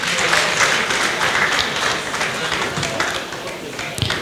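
Audience clapping and cheering at an on-stage celebration of a husband, dense steady applause filling the room throughout with a few louder claps near the end.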